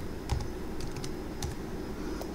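Quick bursts of keystrokes on a computer keyboard as a password is typed, with a few short clusters of clicks over steady low background hum; no one speaks.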